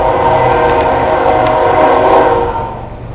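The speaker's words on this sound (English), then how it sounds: "you can tell I live close to a train track" A train passes close by a home near the tracks, a loud sustained rumble with wheel clatter and a horn-like tone that fades slightly toward the end.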